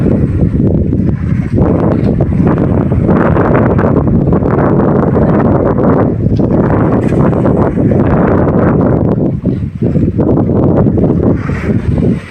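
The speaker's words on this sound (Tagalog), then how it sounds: "ang ingay ng hangin mga ka-idol." Strong wind roars without a break across a fishing boat at sea during a tuna trip, loud and buffeting right at the microphone the whole time.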